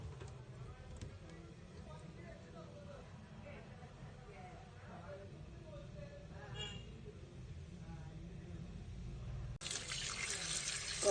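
Rui fish heads being rinsed under a running tap in a kitchen sink, a steady wash of flowing water with splashes, under continuous talk, the stream growing louder and fuller near the end.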